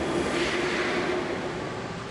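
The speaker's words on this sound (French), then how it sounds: "RER Luxembourg, la rame s'éloigne" RER commuter train pulling away from Luxembourg station in Paris, a faint, steady rumbling roll with a soft whine, receding slightly as the carriages move off, no voices.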